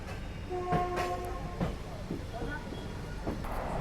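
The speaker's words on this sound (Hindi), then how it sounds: "बिल्कुल डिट्टो ऑन टाइम डिपार्चर हो रहा है श्रीधाम एक्सप्रेस का।" Shreedham Express with old ICF coaches departs on time, a faint rumble of rolling railcars with a few short distant horn tones, low and steady throughout.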